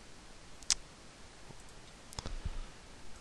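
Computer mouse clicks while working in Photoshop, two or three sharp, faint, isolated clicks spaced about a second and a half apart in a quiet room.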